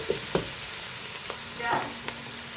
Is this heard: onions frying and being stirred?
yes